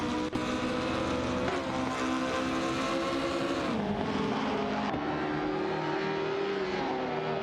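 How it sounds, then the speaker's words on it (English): Race cars speeding in an AI race, a loud, continuous engine whine whose pitch rises and dips as they accelerate and lift through turns, with no talking. "Racing car dashing away"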